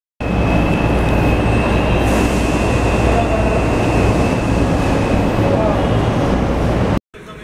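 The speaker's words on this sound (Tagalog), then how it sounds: "Ganda yung train namin, yan. Coca-Cola train." A Coca-Cola train rolls along the rails with a loud, steady rumble and a continuous high whine, sustained and close throughout before an abrupt cut near the end.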